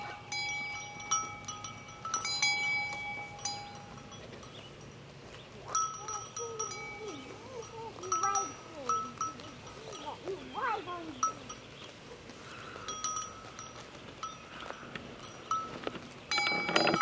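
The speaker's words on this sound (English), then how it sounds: "One big block of sheep." A flock of sheep, some with clinking bells, mills about nearby, with scattered bleats and baas breaking over quiet farmyard ambience and a person speaking softly at times.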